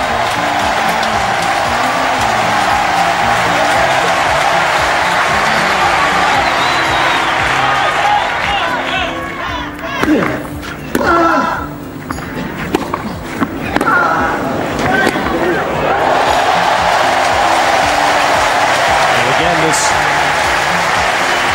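A large tennis crowd at a Federer versus Nadal match cheers and applauds steadily throughout, loud and continuous, dipping briefly mid-way before swelling again, with a commentator talking over it.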